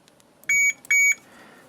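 Two short, clear electronic beeps from a multimeter continuity buzzer sound in quick succession, high-pitched and close, against a quiet background.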